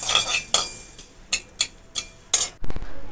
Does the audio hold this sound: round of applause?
no